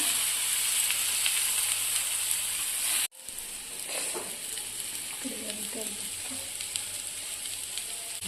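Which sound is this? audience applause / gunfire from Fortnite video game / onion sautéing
onion sautéing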